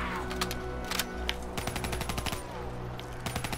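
The Cuda gun fires in Call of Duty Black Ops 3 Zombies in rapid automatic bursts of dense, steady crackling shots. It stays loud and close for the whole stretch, with no talking.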